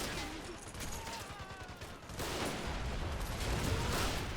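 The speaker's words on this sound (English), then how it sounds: "the defenses by the bottom of the hill is taking a lot of fire right now" Dense battlefield gunfire and artillery from Men of War: Assault Squad during a Soviet beach assault in Manchuria, with rapid overlapping shots and booms forming a continuous, fairly quiet barrage that swells louder in the second half.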